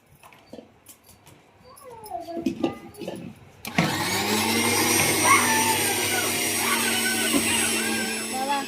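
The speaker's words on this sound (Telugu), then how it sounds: "బాగా మెత్తగా మిక్సీ పడుతున్నావా?" A kitchen mixer grinder blending a paste starts abruptly after some brief voices and clatter, then roars loud and steady with a high whine for several seconds.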